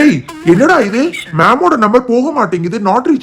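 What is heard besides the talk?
No everyday noise stands out behind the speech.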